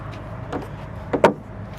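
An RV storage compartment door on small shock rams swings shut softly, ending in a light, muffled thump followed by a brief second knock, close by with no talking.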